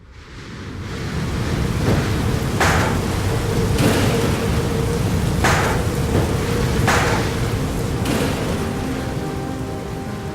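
Heavy rain from Hurricane Irma pours steadily in Fort Myers, a constant dense roar with sharp gusting bursts recurring every second or so, loud and continuous with no voices.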